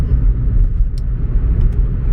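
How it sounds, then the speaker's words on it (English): A car driving on a wet, rainy road gives a steady, loud, low rumble of engine and tyre noise heard from inside, continuous for the whole stretch with no talking. "I bet my nicely washed car's getting all dirty now in this rain-infested road."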